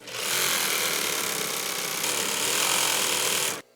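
A sewing machine runs fast and continuously, stitching fabric scraps for remade clothing, a loud steady whirring drone that cuts off abruptly near the end.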